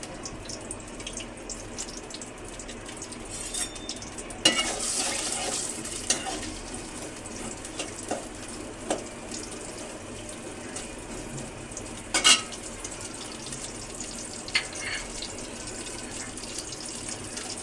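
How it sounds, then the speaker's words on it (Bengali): Chopped onions with bay leaves and green chilies sizzle softly in hot oil for a river boal fish curry, with a faint steady crackle and occasional louder stirring clatters, no speech. "আমরা পেঁয়াজটাকে কিছুক্ষণ ভাজবো"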